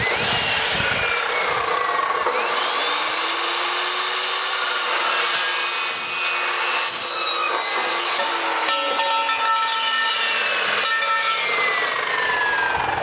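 Continuous rasping saw cutting metal into 8-inch sections, loud and close, with high squealing tones rising and falling throughout and no talking.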